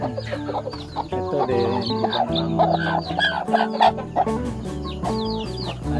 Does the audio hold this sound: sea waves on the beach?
no